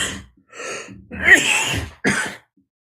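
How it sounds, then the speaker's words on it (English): A run of close, loud, harsh coughs, four bursts in quick succession with brief gaps between them. "the coughing's starting."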